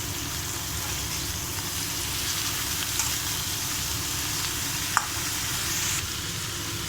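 Cauliflower sizzles steadily in hot oil as it is stirred around a pan, a constant frying hiss with a few faint scrapes and clinks, no talking.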